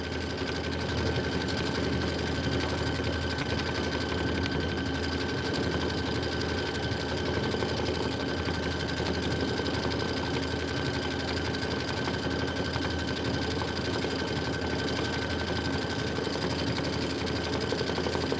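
A sewing machine runs continuously while piecing quilt blocks, a fast, even mechanical whir with no pauses from start to finish, close and fairly loud.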